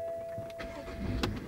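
A BMW six-cylinder engine cranks and catches in a brief, quiet start heard close by, with no voices.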